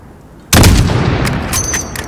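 A single loud rifle shot in Call of Duty: Modern Warfare, a sniper-style report at a target 600 meters off, cracking sharply and then rolling into a long echoing decay with no voices.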